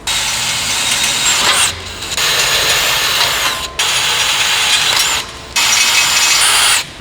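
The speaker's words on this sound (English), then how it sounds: "we're going to enlarge our pilot holes out step by step until we get to 7mm" Drill enlarging pilot holes step by step to 7 mm in the front crossbar of a Volkswagen Golf R MK7.5 during a front splitter install; loud steady whirring in four long bursts separated by brief pauses, no talk.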